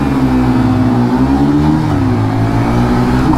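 Two 125cc commuter motorcycles, a Bajaj Pulsar 125 and a Honda SP Shine 125, launch together in a drag race, their engines droning loud and steady with rising, shifting pitch as they pull away.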